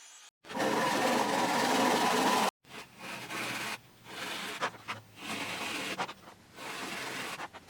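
Hole saws cutting a workpiece to make a crude knob, grinding bursts of varying length broken by brief pauses, close and moderately loud.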